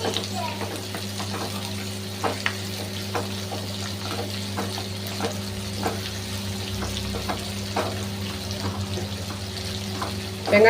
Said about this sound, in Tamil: நம்ம வெங்காயம் பாதி வதங்கிருச்சு